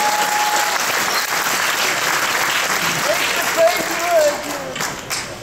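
A crowd at a Hot Wheels convention finale gives a big round of applause, with loud, sustained, dense clapping, some voices and cheers rising through it near the end.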